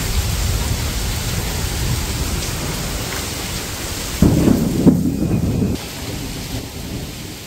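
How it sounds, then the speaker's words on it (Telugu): A hailstorm outside brings steady rain hissing throughout, and a louder rumble of thunder swells up midway before fading back into the constant downpour. "బయట వడగల్ల వర్షం అయితే స్టార్ట్ అయిపోయింది"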